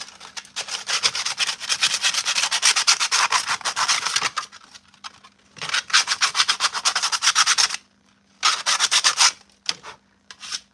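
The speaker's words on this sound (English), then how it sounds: "You want to sand the ABS before you throw any kind of glue onto it." Sandpaper rubbing on ABS plastic armor pieces before gluing, loud rapid back-and-forth scratching strokes in several bursts separated by short pauses.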